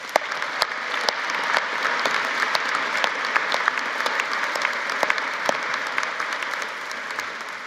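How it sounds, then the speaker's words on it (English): An audience at a university winter commencement ceremony claps loudly and steadily, a dense, sustained wash of applause from a large crowd with scattered sharper claps throughout. "Let's give them all a big round of applause."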